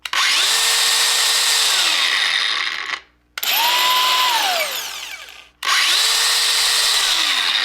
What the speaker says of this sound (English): I just got my 60 volt grinder in, and listen to the difference versus the 20 volt.